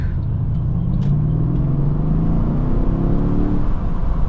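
A Mercedes E63 S AMG W212 5.5L twin-turbo V8 rumbles and rises steadily in pitch as it accelerates, smooth and fairly subdued, heard from inside the car.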